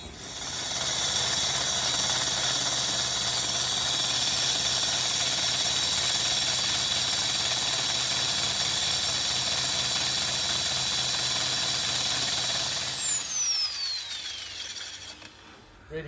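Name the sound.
drill boring through a dry wall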